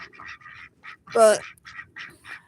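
Male ducks quack in repeated short bursts on a farm, a steady fussing chorus that runs throughout, with a person's voice briefly breaking in over them.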